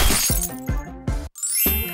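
A hammer strikes a phone's protective glass in a rapid series of sharp cracking and shattering hits. A brief silent gap falls between blows before a final bright glassy crunch.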